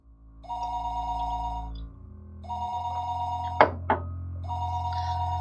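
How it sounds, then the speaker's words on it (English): A telephone rings in a video game, two long electronic ring bursts separated by a pause, with a couple of sharp knocks between them and a third ring starting, over a steady low background hum. "The phone rang, and I didn't know where the call was coming from."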